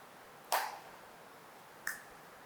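Two sharp hand claps behind the back during ballistic stretches in the transverse plane, about a second and a half apart, crisp and close in an otherwise quiet room.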